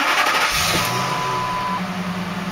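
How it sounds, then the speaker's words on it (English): A car engine, fitted with a hydrogen–oxygen separating barrier under test, runs steadily up close, a continuous mid-range hum with a faint whine throughout and no talking. "So I'm going to start the car now"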